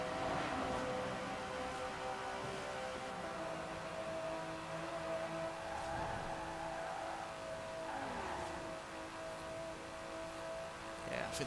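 A 2018 Aston Martin Vantage in Forza Horizon 4 holding a steady high-pitched engine drone at top speed, loud and continuous with slight pitch wavers, a voice talking faintly underneath.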